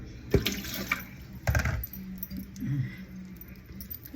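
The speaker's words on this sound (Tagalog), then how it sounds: "Hinugasan ko lang." Small tomatoes are rinsed under running tap water in a sink, with splashing, handling clatter and a couple of louder knocks against the basin.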